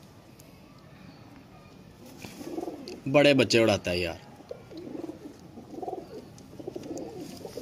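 Blue pigeons coo in a short loud burst nearby, followed by softer scattered coos, while someone talks over them.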